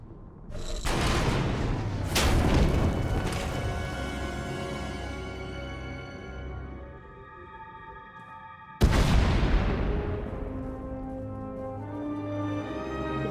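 Two heavy booms go off several seconds apart, each a sudden loud blast that rumbles and fades slowly, with no voices over them.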